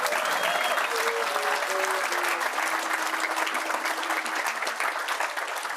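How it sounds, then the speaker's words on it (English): An audience at a Daf Yomi Talmud class gives a round of applause, with steady, even clapping throughout, while faint sustained tones run underneath. "I think we should give Yossi Klein a big round of applause"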